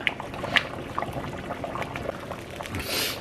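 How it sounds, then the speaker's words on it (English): A pot of taco meat soup simmering at medium heat, with soft bubbling and a few faint clinks, quiet and close, swelling into a brief hiss near the end and no voices. "So let's go ahead and let this boil."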